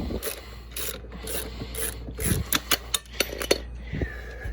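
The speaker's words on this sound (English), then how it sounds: "Just keep ratcheting these 3 nuts off" A ratchet wrench works nuts off a Snapper riding mower with a Briggs and Stratton engine, its close, steady raspy clicking turning into a run of sharper separate ratchet strokes near the end.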